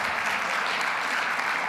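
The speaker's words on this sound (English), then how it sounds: "Yes, clap, keep clapping." An audience at a Sunday gathering in a spiritual center claps steadily, a dense, even wash of applause that holds at the same loudness throughout without voices breaking through.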